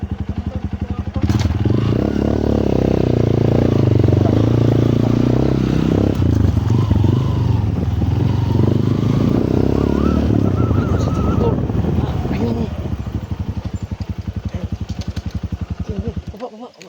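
A motorcycle engine runs steadily close by with a low, throbbing drone that lasts throughout and fades near the end, while people talk over it.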